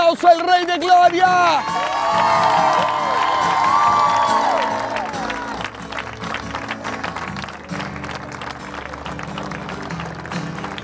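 Worship congregation applauding and cheering at a Spanish-language praise event in New York, a loud wash of crowd noise and shouts that fades while music and voices continue underneath.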